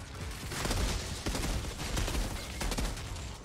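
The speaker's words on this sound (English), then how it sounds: "Oh, it's a burst fire." Burst-fire gun in the shooter game Outriders, rapid clusters of loud sharp shots repeating in quick succession amid dense combat noise.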